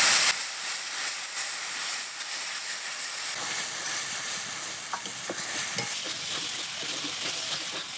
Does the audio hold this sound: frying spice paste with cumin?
yes